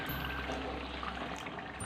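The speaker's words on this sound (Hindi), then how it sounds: "और अब इसके अंदर मैं डाल रही हूँ आधा गिलास पानी।" Half a glass of water is poured into a pot of spiced masala gravy for Lahori chicken chargha biryani, a soft, close, continuous splashing trickle lasting under two seconds with no talk.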